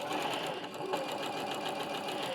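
A sewing machine stitches quilting fabric under the presser foot, a fast, even mechanical whirring with rapid needle ticking, close and steady with no speech.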